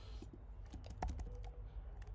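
Quiet typing on a computer keyboard, a short scattered run of soft key taps with one sharper click, close and alone.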